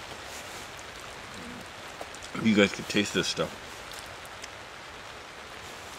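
Steady rain falls outdoors among pine trees near a river, a soft, even hiss throughout, with someone speaking briefly over it midway.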